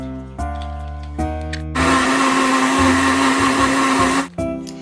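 A blender grinds apple and onion, a loud steady whirring roar for about two and a half seconds between short hums and bumps of handling, then it stops.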